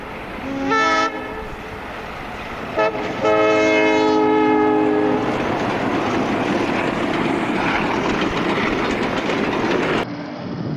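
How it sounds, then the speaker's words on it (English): A passenger train hauled by RS-11 diesel locomotives blasts its horn in two loud bursts at the Route 22 crossing in Essex, New York, then rumbles and clatters past steadily before cutting off abruptly. "Here's a passenger train with RS-11s at the Route 22 crossing"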